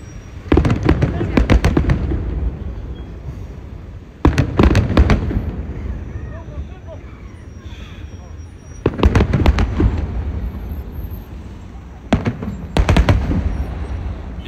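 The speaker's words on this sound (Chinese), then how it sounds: "烟花味道很好闻" Fireworks burst in four loud clustered volleys of rapid cracking pops, separated by quieter stretches of crowd murmur and talk.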